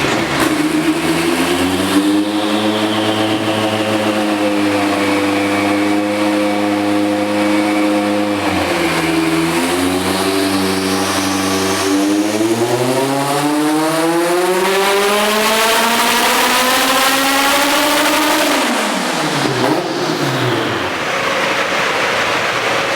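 A powerful 2017 Mustang V8 engine in a Fox body Mustang revs hard, climbing through rising pitches, dropping briefly, then screaming up again before falling off, loud and close with no talking.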